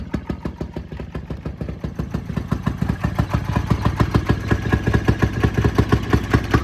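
A Fairmont pop car motor idling with the throttle cracked slightly open and a rich mixture, a loud close rapid putt-putt firing rhythm that steadies and strengthens, with no one talking.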